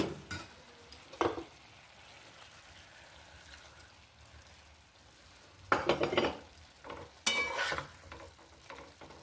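Puti fish and crushed fig curry with a little cinnamon paste stirs in a pan, a low sizzle marked by a few sharp scrapes and clatters of utensil against metal, loudest near the end.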